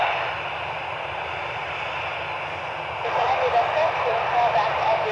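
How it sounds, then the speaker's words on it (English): Delta Airbus A320 airliner, formerly operated by Northwest Airlines, passing overhead at Cleveland Hopkins airport as a steady broad engine roar that swells louder partway through, with talk running beneath it. "Delta 1350, a former Northwest Airlines A320 heading to Atlanta."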